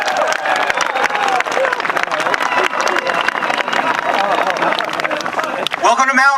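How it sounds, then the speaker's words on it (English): An audience applauds a speaker being introduced at the Alabama Museum of Natural History in Moundville, a dense, steady wash of clapping that lasts throughout, loud and close, with a voice starting to speak at the very end. "Please, everyone, give a round of applause."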